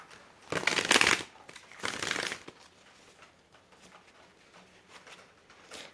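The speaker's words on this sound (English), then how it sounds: "So I just split the deck on the tower." A traditional-style tarot card deck being split and handled, giving two quick, close papery riffling bursts followed by faint soft card rustles near silence.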